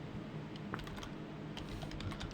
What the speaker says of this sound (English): our first objective today is to output some data to the screen. All right, so we're going to start typing.